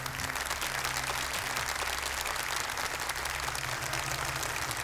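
A studio audience at a Quran recitation competition applauds a contestant with brisk, continuous clapping, dense and even over a low background hum.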